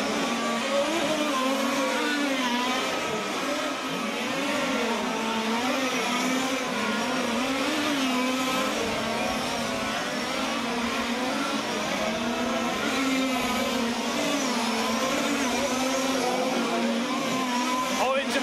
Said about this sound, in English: Number 1 car, round the last corner, through the pyramid he goes, out in front of the pits, round pit hairpin and into Spoon Corner